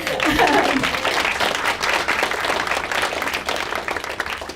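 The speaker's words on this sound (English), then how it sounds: "I think we need to clap for that" An audience at an academic talk on Gaza claps for a newly graduated PhD, brisk applause with audible individual hand claps, while a voice speaks over it at the start.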